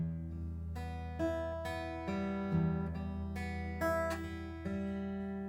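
A guitar picks the opening arpeggio pattern of a song, with a steady sequence of plucked notes ringing over a sustained low open string, close and clear with no talking.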